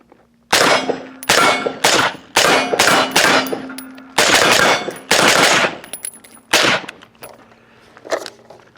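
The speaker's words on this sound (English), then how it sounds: "I was able to hit the steel target a little bit more." Suppressed 5.56 rifle fired at a steel target: about nine sharp shots, each a muffled report with a bright metallic clang of steel ringing after it, in an uneven rapid series with short pauses, loud and close.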